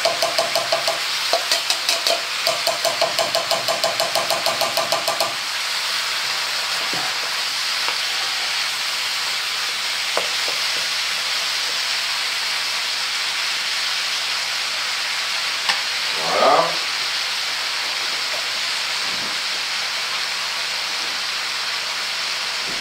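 Onion, shallot and garlic sizzle steadily in a hot pan for squid à la provençale, a continuous close hiss with a few clinks of utensils and no talking.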